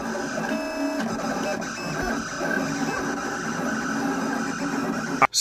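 A vinyl cutter slices out a mask design, its steady mechanical whir and shifting motor tones running continuously up close, ending with a brief louder thump.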